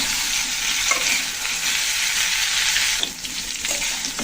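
Mixed vegetables fry in a pan with a loud, close sizzle, broken by stirring scrapes and spatters, dipping briefly before the hiss returns.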